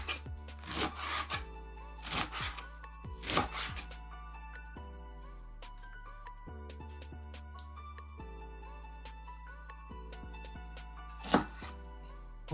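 Salad vegetables chopped into large pieces outdoors beside a cauldron over a campfire, a few distinct knife strokes on a board early on, then a quieter stretch and one sharp cut near the end, over steady background tones.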